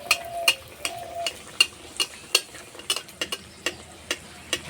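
Vegetable pocket parathas fry in oil on low heat, a soft continuous bubbling sizzle punctuated by regular sharp ticks and clinks of a utensil against the pan.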